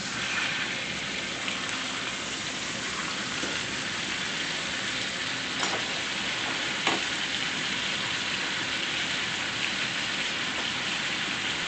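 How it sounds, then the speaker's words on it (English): Steaks fry undisturbed in butter in a hot pan, producing a steady, dense sizzle like light rain that holds evenly throughout, with a couple of faint pops and crackles rising briefly above the hiss. "I'm just going to let them cook there in that butter for another 3 minutes"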